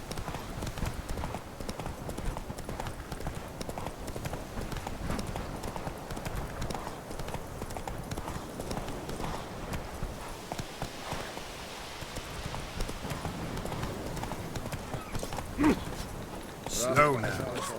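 Hooves of the horse Roach in The Witcher 3 clop steadily on the ground, a continuous rhythmic walking gait with rustling tack, under intermittent talking from a man.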